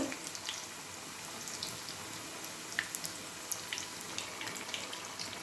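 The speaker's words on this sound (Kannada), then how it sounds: "ಸೊ ಈಗ ಇದನ್ನು 1-2 3 ನಿಮಿಷಗಳ ಕಾಲ ಡೀಪ್ ಫ್ರೈ ಮಾಡ್ಕೊಳ್ಳೋಣ" Cucumber bajji deep frying in hot oil, a dense continuous sizzle with scattered small pops and crackles, close and fairly quiet.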